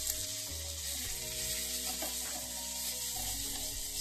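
Cumin powder and red chili powder sautéing in a pan, a steady close sizzle with stirring scrapes running throughout, no voices.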